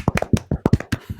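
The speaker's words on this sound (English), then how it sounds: "Everybody clap." A small group claps in quick, uneven bursts at close range, the sharp hand smacks loud and dry with no talk between them.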